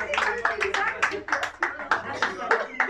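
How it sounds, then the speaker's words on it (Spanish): Guests at a birthday celebration with a youth mariachi band clap in quick uneven bursts, with a voice speaking over the applause. "Y quiero que me regalen el aplauso bien bonito para nuestro homenajeado."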